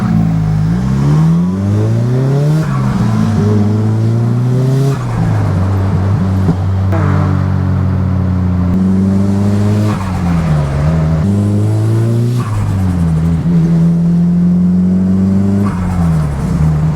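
A Nissan Silvia S15 revs hard on a Friday night cruise, its engine note climbing and falling again and again. The sound is loud, close and continuous, with no talking.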